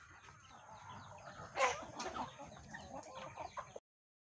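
Recently moved chicks and chickens cluck softly in a quiet coop, with a slightly louder burst of clucks partway through and scattered low calls around it.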